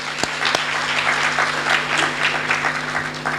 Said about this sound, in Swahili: Tupigie mheshimiwa makofi tena.